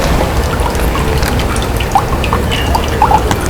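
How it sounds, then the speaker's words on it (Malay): Drops of ammonia test solution fall into an aquarium test tube as a few faint, small, separate plinks, partly buried under a steady background hiss. "kita kena masukkan 8 titisan ke dalam setiap testing tube"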